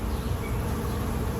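Dense, steady buzzing of many honey bees close by during the inspection of a swarm hive, a continuous loud hum with no other sounds.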